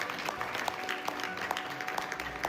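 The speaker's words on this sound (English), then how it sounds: "shows Trump signing the document with Macron applauding at his side" Applause at a formal treaty signing ceremony at Versailles, where an interim Iran agreement is signed, a dense continuous patter of many hands clapping from a crowd, steady and moderately loud throughout.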